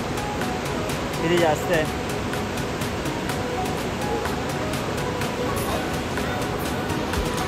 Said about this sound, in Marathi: पाण्याचा फोर्स बघा तुम्ही